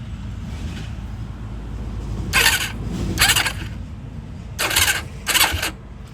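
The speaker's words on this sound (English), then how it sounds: "so I'm just gonna crank it a couple times, see if it's even grinding against the cover." A Yamaha YFZ450 ATV engine is cranked over in four short, loud bursts, spaced in two pairs, with a low rumbling background between them and no talking.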